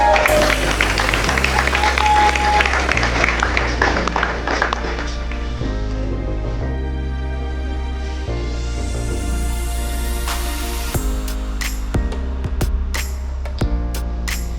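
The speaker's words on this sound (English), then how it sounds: "Give a round of applause." Applause rises from the audience at a skills academy graduation ceremony, a thick patter of clapping strongest at first, over loud bass-heavy music that continues as the clapping thins into scattered claps and taps.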